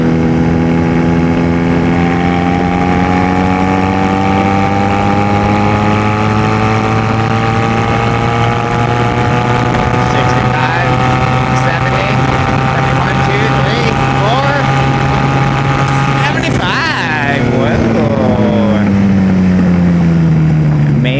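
A Honda Rebel 250 motorcycle engine runs loud and close while riding, holding a steady droning tone, then shifting gear near the end so the pitch drops before climbing again.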